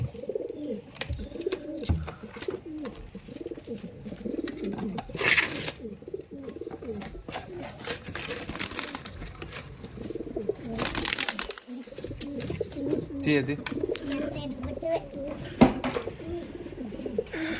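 A newly bought pair of pigeons coos repeatedly in soft, throaty rolls, close by and steady throughout, with some light background rustle and no talking.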